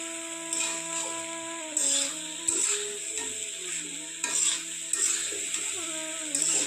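Vegetables including cauliflower frying for fried rice in a pan, heard up close as a steady sizzle broken by about half a dozen louder scraping stir strokes, with a faint tonal hum underneath and no talking.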